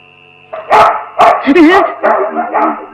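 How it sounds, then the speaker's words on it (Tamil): Dogs bark in a Tamil comedy film scene, several loud, close, sharp barks spaced across the moment with people's voices mixed in. "அம்மா, நாய் நம்ம நாய்ங்களா இல்ல போலீஸ் நாய்ங்களா?"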